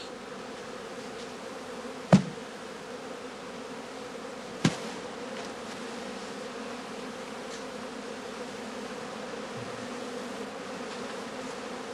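A honey bee colony in a straw skep gives a faint, steady, close drone of buzzing, broken by two sharp clicks early on.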